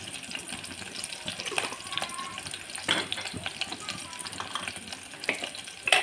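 Ajwain seeds and curry leaves frying in hot oil in a home kitchen, giving a steady close sizzle with occasional stirring scrapes and clinks throughout.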